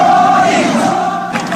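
A large crowd gathered in Manila during the 1986 revolution, a dense, loud roar of many voices swelling briefly with shouts rising over the wash of noise.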